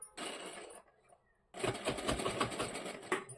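Sewing machine stitching a saree border: a close, fast rattling run of stitches, a short pause, then a longer steady burst of rapid mechanical clatter.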